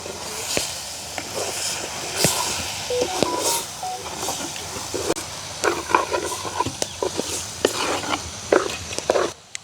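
Egg curry fried in a pan with coconut milk to come, stirred with a small spoon, giving repeated scraping taps and clinks over a soft background sizzle, close and irregular throughout.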